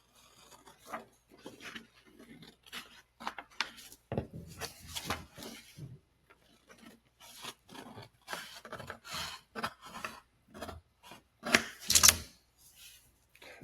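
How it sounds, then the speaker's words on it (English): A 12-inch square sheet of paper is cut to size with irregular rasping, rubbing strokes and small handling rustles in bursts, mostly close and moderately loud, with no speech. "I'm going to go ahead and just cut that to the right size"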